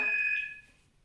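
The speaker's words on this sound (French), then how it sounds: "le téléphone a sonné" A telephone ringing indoors, a single bright electronic ring tone that holds steady and then fades out quickly, heard alone without talk.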